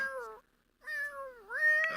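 A cartoon cat in The Sims 4 meows for food, two drawn-out pleading meows close up with a brief pause between them.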